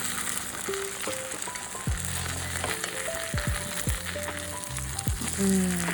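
Food sizzling hard in a pan over high heat in a shared-house kitchen in Osaka, a steady loud hiss with occasional pops, no talk.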